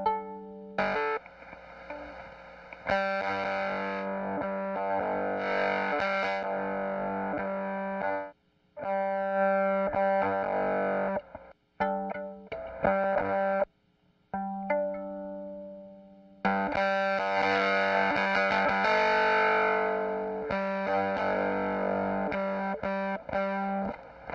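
An electric guitar played through a Cuvave fuzz pedal gives thick, buzzing distorted chords and sustained notes while the controls are tweaked. The playing stops briefly several times, then returns loud and saturated, with no talking.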